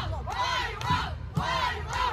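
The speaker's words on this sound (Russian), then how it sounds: "Это так кричат болельщики за Volvo." Crowd of Volvo fans shouting and cheering together at a boat race in Šventoji, Lithuania, with loud, repeated rhythmic chants in unison, heard from a moderate distance.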